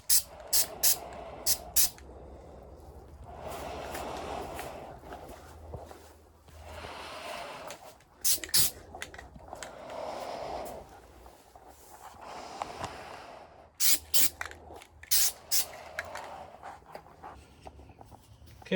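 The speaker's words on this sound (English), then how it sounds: "we're using the Worth rubberized undercoating to establish some texture over these spots" Worth rubberized undercoating sprayed onto a Porsche 914 body in short bursts, a soft airy hiss broken up by sharp intermittent spits, with quiet gaps between passes.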